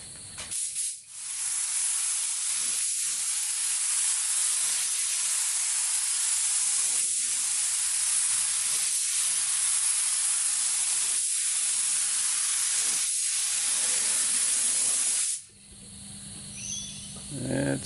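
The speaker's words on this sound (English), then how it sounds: "Time to lay down the second coat of clear." Second clear coat sprayed onto a Toyota Land Cruiser 200 Series bonnet scoop: a loud, steady hiss of spray gun atomising for about fifteen seconds with brief pauses, then stopping.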